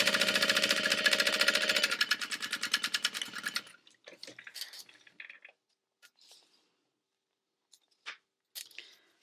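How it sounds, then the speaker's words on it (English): A sewing machine topstitches close to the edge of a backpack panel, running in a loud, steady rapid stitch for about four seconds, then stopping and leaving scattered soft handling clicks and rustles. "top stitching 1/8 of an inch from the edge"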